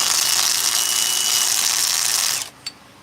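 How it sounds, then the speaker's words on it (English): A power sanding tool used for chainsaw wood carving whirs loudly at a steady high pitch, then cuts off abruptly, followed by a brief click. "another sanding tool."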